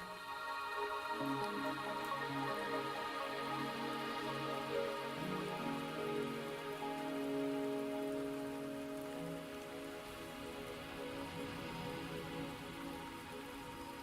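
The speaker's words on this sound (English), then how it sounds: "Are you trapped here by the rain?" Steady rain patters on surfaces in the video game Wuthering Waves, with a soft musical drone beneath it throughout.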